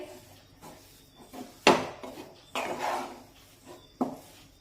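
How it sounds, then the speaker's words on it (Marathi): A spoon or spatula stirs a cooled semolina and coconut modak mixture in a pan, making a few separated scraping knocks against the metal amid quiet pauses. "हे मिश्रण मी थोडंसं असं हलवून घेते"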